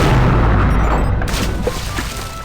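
Booming cannon fire from a boat in The Curse of Monkey Island, a loud deep thud that rolls off into a rumbling tail, with a second softer hit partway through.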